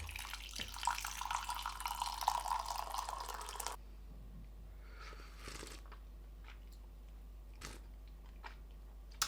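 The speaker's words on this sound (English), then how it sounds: "let's experience the advertised drip-free pouring and enjoy" Coffee pours from an American Press coffee maker in a steady liquid trickle for a few seconds, then stops and leaves only a few soft drips and clinks.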